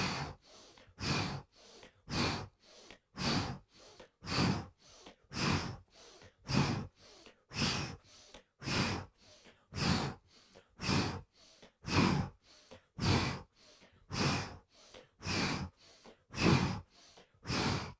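Steady rhythmic breathing during a hot yoga flow of seated twists, each loud whooshing inhale and exhale close to the mic, repeating roughly every second in an even cycle with no talking.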